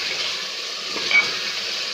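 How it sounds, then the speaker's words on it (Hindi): Chicken frying in a pan, a steady bright hiss of hot oil with a faint stir or scrape near the middle and no talking. "चिकन मेरा हो गया फ्राई अच्छे से"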